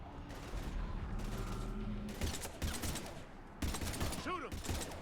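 Sustained gunfire from a firefight in the video game Mass Effect 3, with dense bursts and repeated shots through the whole stretch, loud and close, mixed with battle noise and brief voices.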